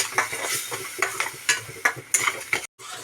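A spoon scrapes and stirs a ground spice paste through a sizzling pan in quick, repeated strokes, close up, with steady frying hiss underneath.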